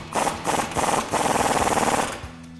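A ratchet spins a 21 mm socket to tighten a nut on a lower shock mount bolt of a RAM 1500 during a leveling kit install, giving a close, rapid rattling burst of clicks for about two seconds before it stops.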